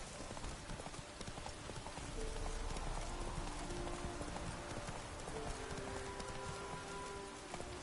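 Steady clip-clop of horse hooves amid falling rain in The Witcher 3: Wild Hunt, a continuous rhythmic trot mixed with rain patter and faint game ambience.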